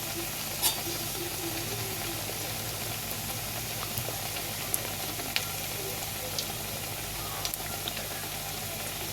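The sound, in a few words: flattened dough frying in hot oil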